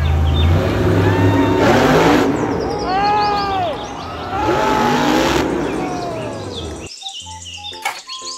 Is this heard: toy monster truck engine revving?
yes